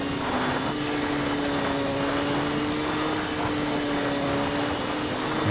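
A rally car in the PS2 game World Rally Championship runs flat out at a steady high-revving engine drone with no letup, loud and continuous, on a stage in Argentina.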